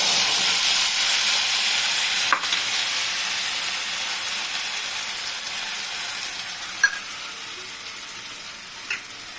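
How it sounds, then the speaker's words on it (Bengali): Lentil dhoka cakes sizzling in hot oil: a steady, close frying hiss that fades slightly over time, with a few small clicks and pops. "এখন এটা আমি তেলে ছেড়ে দিব।"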